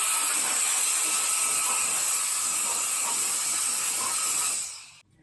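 A small air blower used during structural repairs on a VG hardtop hisses steadily and loudly for about five seconds, then cuts off abruptly, with no talking over it.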